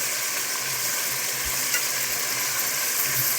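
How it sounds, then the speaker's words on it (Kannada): Mutton browning and frying in a pan as it is stirred, a steady broadband sizzle running throughout with a few soft low knocks from the spoon against the pan. "ಸ್ವಲ್ಪ ಬ್ರೌನ್ ಹಾಗೆ ಬಿಟ್ಬಿಟ್ರೆ ತಳ ಹಿಡಿದ್ಬಿಡುತ್ತೆ, ಅದಕ್ಕೋಸ್ಕರ ಮಿಕ್ಸಾಗಿ ತಿರುಗಿಸ್ಕೊತಾ ಇದ್ದೀನಿ ನಾನು"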